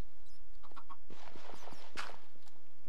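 Chickens cluck in the Minecraft video game, a few short clucks and clip-clop-like steps across a few seconds, fairly close and clear with no talk over them.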